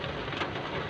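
Dense, steady downpour of heavy rain during a morning motorbike ride in traffic, a continuous hiss with no pauses and no voices.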